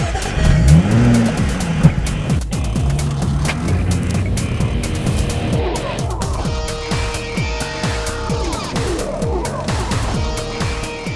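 A Jaguar F-Type Coupe's V6 engine with an 8-speed gearbox pulls hard under acceleration, its loud, rising rev sweeps broken by quick gear changes and a brief tire squeal, continuous and close without talk.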